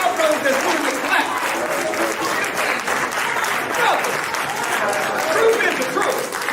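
Audience clapping in a hall during a lecture, steady dense applause throughout, mixed with cheers and shouted voices from the crowd.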